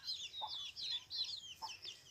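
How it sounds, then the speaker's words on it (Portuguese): Chickens on a small rural farm cluck in short, repeated bursts close by, a few hens chattering over one another with brief pauses between calls. "tratar das galinhas que tá me vigiando aqui também"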